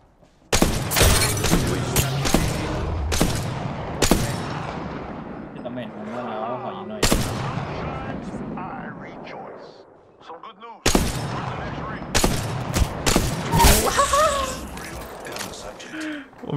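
Bursts of rifle gunfire in a shooter video game, single loud shots and rapid volleys recurring across the stretch, with people talking between and over the firing.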